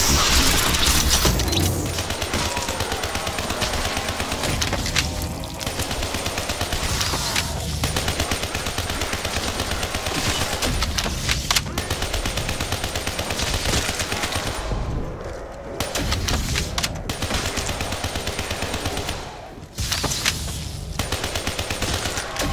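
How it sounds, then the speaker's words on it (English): A ray gun fires rapidly in Call of Duty Black Ops 3 Zombies on the Gorod Krovi map, making a loud, continuous burst of shots with a few short pauses near the end. "This ray gun don't fuck around!"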